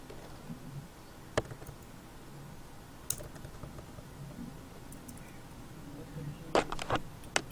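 Keys click on a computer keyboard as C code is typed, sparse and fairly faint taps with a few sharper clacks near the end over a quiet room background.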